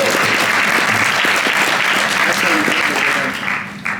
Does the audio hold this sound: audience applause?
yes